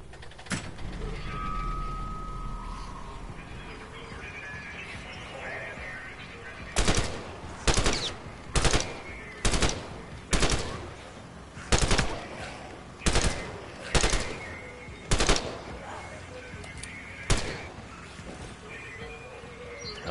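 Gunfire from the PS5 game The Last Stand: Aftermath, about a dozen loud single shots spaced a second or so apart after a quieter stretch of game ambience.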